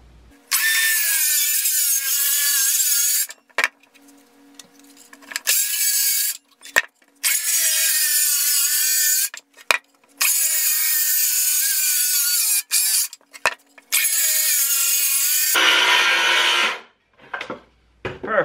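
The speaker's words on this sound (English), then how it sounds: "Now we can go around and trim the box down." A saw trims down a box in a series of loud, close bursts of rapid strokes lasting a few seconds each, separated by short pauses and clunks.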